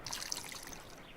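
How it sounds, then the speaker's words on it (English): Colorless, water-based liquid poured from a pipette into a test tube in a Sherlock Holmes detective game, a faint, brief trickle that fades quickly. "Let us use a pipette to take a sample of the liquid and fill a test tube"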